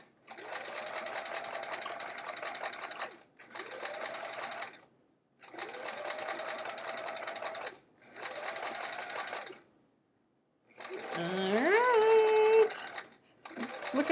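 A sewing machine stitching a fabric bag handle runs in five or six bursts of a few seconds each, separated by short silences, close and clear, with a faint voice near the end.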